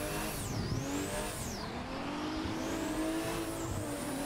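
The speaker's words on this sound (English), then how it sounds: "I feel like I'm drifting quite well" A Toyota JZX100 in the Assetto Corsa racing game drifts with steady, loud tire squeal over a droning engine that rises and falls in pitch, sustained throughout without any talking.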